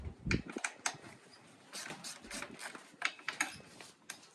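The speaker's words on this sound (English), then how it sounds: "I like to break some of the bolts loose sometimes with the ratchet, and then spin them out with a T-handle." Close ratchet clicks loosen the subframe bolts on a 2021 Honda CRF450RX dirt bike, arriving in short, uneven bursts of sharp metallic ticking with small pauses between strokes.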